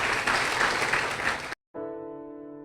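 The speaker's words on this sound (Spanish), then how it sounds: "Démosle un fuerte aplauso" A church congregation gives a loud round of applause after a sermon, a dense wash of clapping that cuts off abruptly and gives way to a sustained musical tone.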